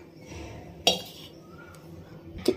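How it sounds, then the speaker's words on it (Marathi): Besan flour and sugar syrup are mixed in a pan for besan laddu: two sharp metallic clinks of a spoon against the pan stand out over soft scraping, with no talk. "इथे मी सगळं असं मिक्स करून घेते।"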